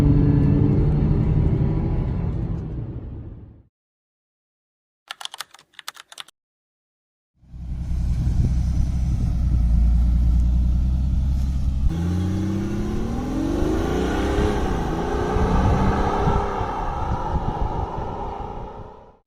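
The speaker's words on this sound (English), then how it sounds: "the monstrous V10 sound still tries to break through" Audi V10 turbo-diesel engine running loud and steady, a deep rumbling drone with a revving swell, broken by a few seconds of near silence and brief clicks before the engine roars back.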